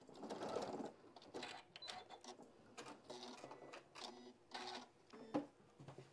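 A sewing machine joining two pieces of fabric runs in short bursts of stitching, ending with a quick reverse back tack; the bursts are close and moderately loud, with pauses between them.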